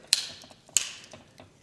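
Two sharp metallic clicks, well apart, as the blades of a multi-tool pocket knife, including a locking can opener, are opened and snapped into place, followed by faint ticking mechanism sounds; close and quiet, with no talk.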